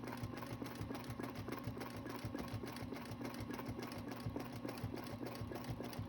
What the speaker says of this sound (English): I'm going to come back and do the other one, taking that pause again